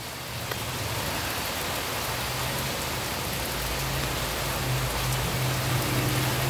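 Steady, heavy rain pours down in a dense, continuous hiss, with a low rumble underneath and no voices.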